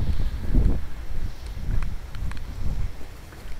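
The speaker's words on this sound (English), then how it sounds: "Oh, it's too windy." Gusts of wind buffet the microphone with low, rumbling thumps that swell and fade unevenly, with no voices.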